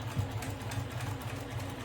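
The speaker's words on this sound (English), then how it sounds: "So let's go to the sewing machine." A sewing machine stitches a seam for a magnetic snap project, giving a steady, fairly quiet mechanical whirr with a regular rapid needle rhythm and no talking.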